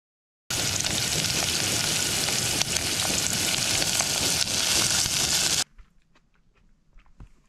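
Loud, close sizzling and frying on a camp stove while cooking couscous with onion, tomato, sausages and curry, a steady hiss that cuts off abruptly, leaving quiet faint clinks and rustles.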